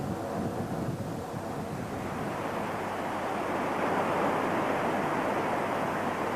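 A stormy sea whipped by a force 8 gale gusting to force 9 off the coast of Anglesey, with roaring wind buffeting the microphone and waves surging in a continuous, loud rush, with no voices.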